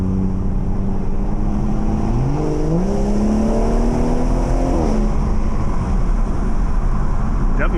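BMW 440i with an MHD Stage 2 tune and upgraded high pressure fuel pump accelerating in Sport Plus on a wet road, engine note rising through gears with shifts, heard loudly from inside the cabin.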